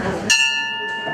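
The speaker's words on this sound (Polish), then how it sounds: "Jest dzwonek, tak jest." A bell rings once during a church service on the 3 May holiday in Kałuszyn. It gives a clear, close strike whose bright tone keeps ringing and slowly fades after a brief murmur of background noise.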